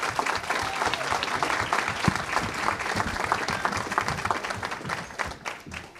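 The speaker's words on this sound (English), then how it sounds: "I don't see why in the world you couldn't just give him a round of applause for doing this." Steady applause from the audience at an informational forum about Hill Country Memorial Hospital, dense clapping holding at an even level for six seconds with no talking.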